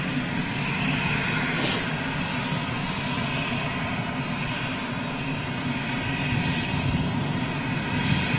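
A Lufthansa jet airliner passes overhead, its engines a steady, broad roar that holds at an even loudness for the whole stretch without any voices.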